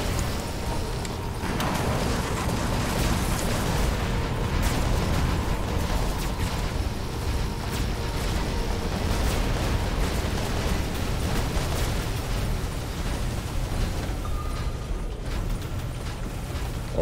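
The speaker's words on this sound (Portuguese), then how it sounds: "Nossa, que legal esses tiros espaciais." Space weapon shots and explosions from the War Robots video game form a dense, continuous rumble of blasts and mechanical clatter at moderate level, with no clearly separated individual shots.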